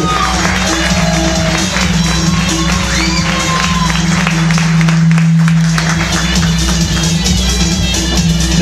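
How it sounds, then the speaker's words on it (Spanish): A lively audience at a closing stage show of dancers applauds and cheers for the performers, with scattered shouts and whoops over dense clapping and a sustained musical tone running underneath. "Le damos un aplauso fuerte para Aixa Hanan y Valer Ruth Alve."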